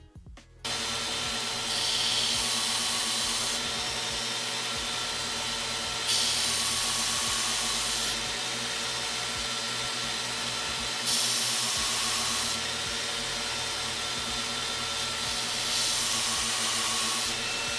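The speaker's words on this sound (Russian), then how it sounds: "Все, можно приступать к заточке сверла." An Affe grinder sharpens a drill bit, a steady motor whine with a gritty grinding hiss that swells in repeated bursts as the bit is pressed to the wheel, loud and close without talk.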